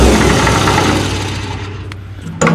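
A flooded Minneapolis Moline tractor engine runs with a rough, knocking low rumble that fades slightly before a sharp bump near the end, close and loud with no talking.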